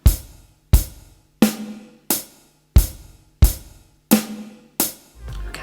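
A slow, steady drum groove played alone on a drum kit: deep bass drum thumps alternating with sharp snare hits, each ringing out before the next.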